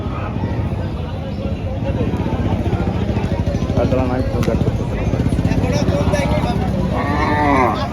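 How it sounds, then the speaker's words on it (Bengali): Cattle low and moo repeatedly in a noisy, crowded cattle market at Noy Mile, Chuadanga, with people talking throughout and an engine idling in the background. "এটা একটা সুন্দর গরু"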